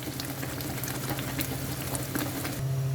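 Gentle bubbling and sizzling of chickpea curry with gram flour simmering in a pan, steady and close, with a low hum underneath.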